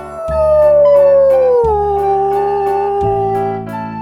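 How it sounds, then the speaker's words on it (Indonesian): A wolf howls in one long, loud, sustained tone that slowly falls in pitch, with no talking over it and a low rumbling background underneath. "Serigala,"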